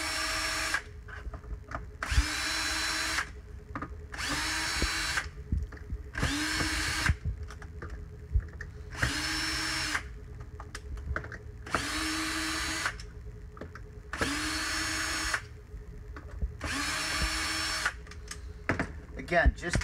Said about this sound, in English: The best way to do that is with a cordless drill.